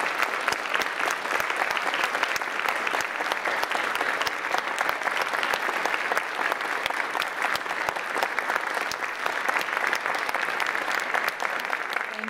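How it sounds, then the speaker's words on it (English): Sustained audience applause at a human rights lecture event, a steady, even roar of many hands clapping that carries on at a constant level for the whole stretch without any break. "a round of applause for Michael, I think, would be very appropriate"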